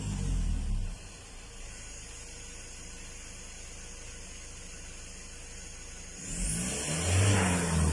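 A repaired Mazda BT-50 Pro pickup revs sharply at the start, settles to a steady idle hum, then revs up again strongly near the end, close and loud with no talking.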